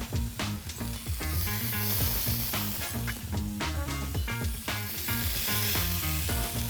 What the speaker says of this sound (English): we're going to put them face down back into our hot pan.